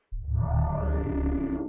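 A synthesized sound-design tone drenched in reverb, with a deep low body and a bright buzzy harmonic layer swelling in quickly and sustaining steadily for over a second.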